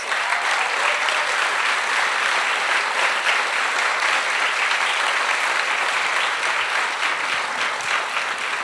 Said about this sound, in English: deserve a tremendous round of applause